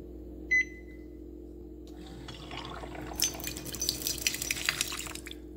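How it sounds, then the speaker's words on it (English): A brief beep, then hot water streams from a Zojirushi CV-DCC50 hybrid water boiler into a cup, the pouring growing louder and splashier toward the end. "Now I'll show you how the water dispense."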